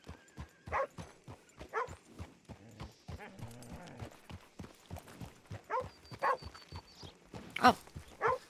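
A dog barks repeatedly while chasing riders in the video game Red Dead, with horse hooves clopping along and people talking over the sharp, irregular barks.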